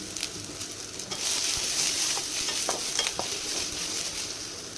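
Cumin and chillies sizzle and pop in hot oil in a pan while being stirred, a steady close frying hiss broken by scraping strokes and small crackles; no talking.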